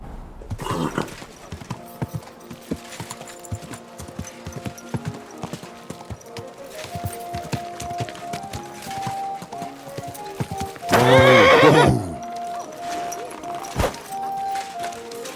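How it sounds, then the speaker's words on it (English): Horse hooves clip-clopping in the video game Kingdom Come: Deliverance II, a steady trotting rhythm with game music underneath and a loud neigh near the end. "Don't you know how to keep your horse under control?"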